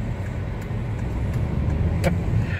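A car driving along a road, heard as a steady low engine and tyre rumble from inside the vehicle, even and unbroken with a faint brief click near the end.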